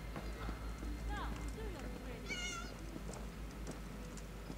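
A cat meows a few times in Elder Scrolls Online, short rising cries set over game ambience with steady hoof clip-clops nearby.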